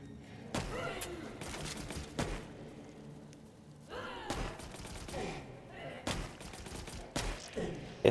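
Slow, heavy rifle shots from a powerful weapon in a dark cave in the survival game ParadiZe, a few widely spaced loud blasts with long tails, separated by quieter stretches with a voice talking.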